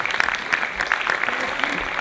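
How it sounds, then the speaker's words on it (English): Audience applause fills a hall at a Java coding talk on evolutionary algorithms, a dense steady clatter of many hands clapping throughout, moderately loud with no pauses. "The applause is for you guys."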